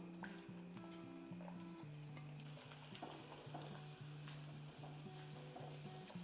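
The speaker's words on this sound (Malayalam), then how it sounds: "നമുക്ക് തേങ്ങ ഇതിനകത്തോട്ട് ഇട്ടൊന്ന് വറുത്ത് പോരാം" Steady sizzling of coconut frying in hot oil, a constant close crackle with occasional stirring.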